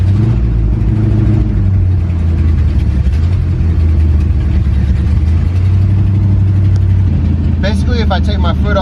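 A car engine runs steadily at a loud, constant level, held on the gas to warm up after starting, with a brief rise in pitch near the end; speech-like sounds appear briefly.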